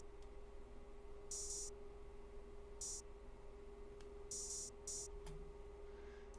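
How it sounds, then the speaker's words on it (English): Open hi-hat pattern from a hip-hop beat: sparse, bright sizzling hits, some single and some paired, fairly faint over a steady background hum and hiss. "And I used this open hat sound."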